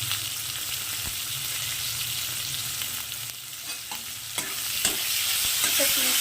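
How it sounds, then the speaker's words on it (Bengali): Thinly sliced onions fry and get stirred in a pan for chicken kosha, a close sizzle broken by repeated scraping and clatter of the spoon against the pan. "এবার আমি এর মধ্যে একটু লম্বা করে পেঁয়াজ কুচি দিয়ে দিচ্ছি।"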